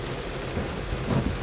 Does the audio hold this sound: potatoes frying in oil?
no